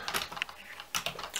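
Keys tapped on a USB keyboard linked to an Android phone through an OTG adapter, two quick bursts of close, crisp clicking separated by a short pause, with no talking.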